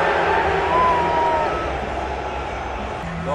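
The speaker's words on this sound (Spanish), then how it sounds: "Para el de Mérida, la ovación." Stadium crowd at the Estadio Azteca during a football final cheering a player from Mérida, a steady wash of roaring and scattered whistles that swells briefly then holds at a lower level.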